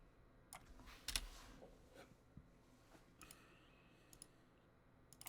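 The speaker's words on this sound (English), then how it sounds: "Clicking on the wrong one." Computer mouse clicks in a classroom during a programming lecture: a few sharp, faint clicks scattered over several seconds against a steady room hum, with one louder click near the start.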